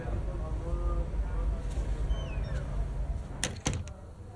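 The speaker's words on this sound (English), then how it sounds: "Shut the door." A door shut in the F1 25 video game, a couple of sharp knocks near the end after faint background sound, with a voice heard briefly.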